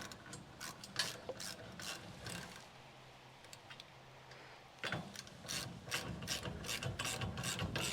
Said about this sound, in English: Let's tighten these 2 down first.